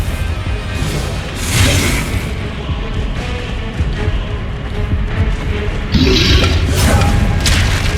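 Repeated heavy booms and crashes from blasting-spell explosions in the Hogwarts Legacy video game, loud and close, with whooshing bursts and rumbling impacts, the strongest blasts near the start and toward the end.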